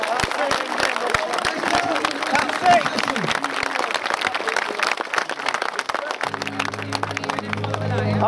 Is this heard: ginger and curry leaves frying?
no